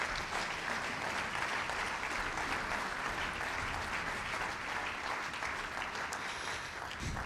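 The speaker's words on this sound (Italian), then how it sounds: "Un applauso a Ruggero" Concert audience applauding a pianist at a gala for an international piano competition in Friuli Venezia Giulia; sustained, even clapping from a large hall crowd, soft and distant, with no talking.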